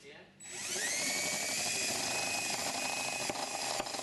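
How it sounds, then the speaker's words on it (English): A power drill with a step bit starts up after a brief pause and whines steadily at high speed, grinding continuously close by as it drills holes in a homebuilt aircraft's skin. "we're going to use a unit bit to drill up all of the holes at the corners"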